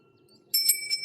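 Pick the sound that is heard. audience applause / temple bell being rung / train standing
temple bell being rung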